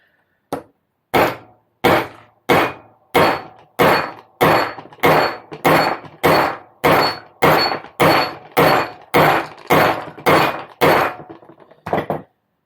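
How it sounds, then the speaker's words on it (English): A hammer repeatedly whacks a stuck bearing to drive it out of a Holdsworth Super Pro bicycle part, about twenty loud, evenly spaced metallic blows in steady rhythm, close up, with no talking. "So we'll keep on wellying it because we do like just whacking at things."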